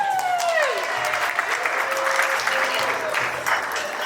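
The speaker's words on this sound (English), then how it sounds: "Can we get a round of applause for Danielle?" Audience applause filling a room, steady clapping from a crowd lasting several seconds, with a voice speaking over the start.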